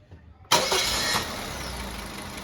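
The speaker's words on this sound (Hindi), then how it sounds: "अब हम गाड़ी स्टार्ट करेंगे।" After a short quiet, a car engine cranks and catches with a sharp burst, then quickly drops to a steady idle, loud and close with no voices.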